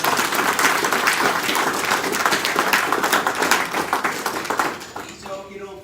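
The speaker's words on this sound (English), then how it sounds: "If we could, let's give all these leaders a round of applause." An audience applauds for leaders at a presentation, a dense, steady roar of many hands clapping in a room that tapers off toward the end as a voice begins.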